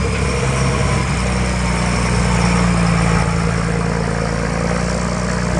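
A Kalmar DC23 pneumatic-tire forklift with a large 52,000-pound lifting capacity idles steadily at close range. The diesel rumble is loud and even, with a constant low drone and no speech over it.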